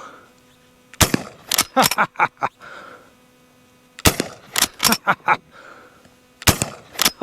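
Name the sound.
old Winchester rifle firing smokeless ammunition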